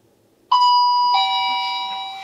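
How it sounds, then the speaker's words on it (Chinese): Electronic doorbell at a rural hospital's night radiology room chimes loudly, a sharp tone followed by a second tone that rings on steadily in a quiet room. "会被这个门铃声吓醒"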